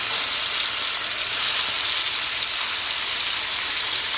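Smash burger patties sizzle on a hot griddle just after being flipped, a steady, loud, dense frying hiss that runs unbroken throughout.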